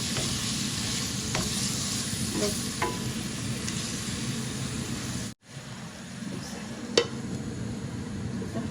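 Homegrown garden vegetables frying in a pan while being stirred, a steady loud sizzle with scraping strokes, a brief drop to near silence midway, then a sharp clack before the sizzling resumes.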